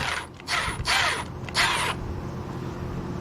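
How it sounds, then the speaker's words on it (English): A wrench works a 19 mm nut off a Honda Reflex scooter's front wheel during a rotor swap, giving three loud, close bursts of rapid ratchet clicking, then quiet. "what we'll do is we'll take this nut off. 19 millimeter."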